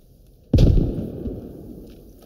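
Single grenade blast in the video game Squad Ops Arrowhead, a sudden loud boom followed by a long rumbling decay, with no voices over it.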